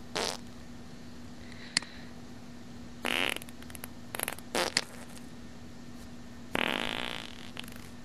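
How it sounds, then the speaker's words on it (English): A downloadable fart sound effect plays as several separate bursts: a couple of short sputters, a cluster of quick brassy blasts, then a longer loud raspberry near the end, over quiet background hiss. "We seem to have some farts here."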